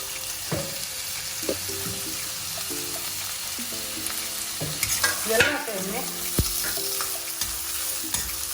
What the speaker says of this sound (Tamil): இது எல்லாத்தையுமே நல்லா ஆயிலில் ஹை ஃப்ளேமில் வதக்கி விட்டுக்கோங்க